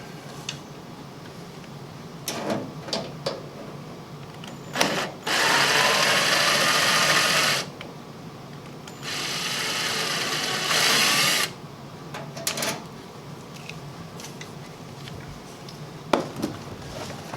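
A power drill whirs in two bursts of a few seconds each as it backs screws out of a microwave during installation above a stove. Scattered clicks and clatter of handling come between the bursts.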